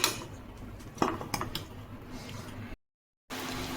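Jackfruit biryani being mixed in a cooking pot over low to medium heat, with a few close scraping clinks of a spoon against the metal pot amid soft background noise, and a short silent gap near the end.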